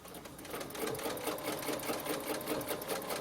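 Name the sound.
sewing machine stitching pillow design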